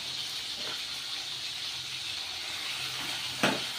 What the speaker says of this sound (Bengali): তেলটা গরম হয়ে গেছে, মাছগুলো ছেড়ে দিলাম